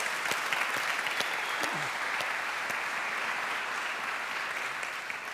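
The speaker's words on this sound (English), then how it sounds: "So I think that deserves a round of applause as well." Steady, dense applause from a conference audience at a Cork Pride diversity and inclusion event, filling the room evenly throughout with no talk over it.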